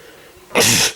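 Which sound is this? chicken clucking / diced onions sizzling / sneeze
sneeze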